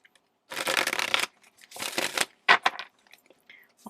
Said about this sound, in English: I actually want to shuffle the entire deck